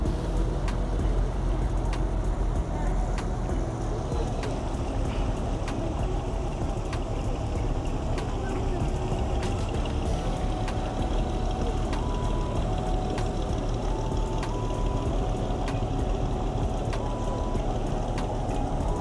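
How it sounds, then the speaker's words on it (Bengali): Boat engine running at low, slow speed through the mangrove waters of the Sundarbans, a steady loud drone that continues unbroken throughout with no pauses. "আমাদের বোটটা একটু আসতে যাচ্ছে।"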